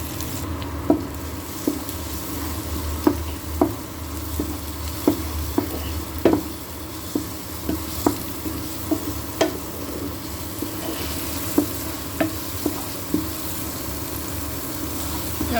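Spices, turmeric and chilli powder, fry in a pan for a curry with soft steady sizzling, broken by regular scraping knocks as the mix is stirred.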